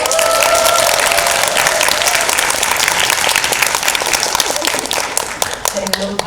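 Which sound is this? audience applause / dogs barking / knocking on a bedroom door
audience applause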